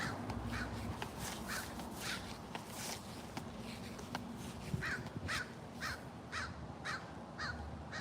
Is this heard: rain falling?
no